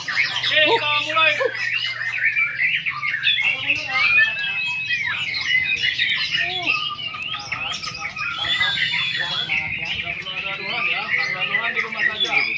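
Loud, rich song from a white-rumped shama at a bird contest, with fast warbles, sweeping whistles and chattering notes pouring out continuously over a low hum of background voices.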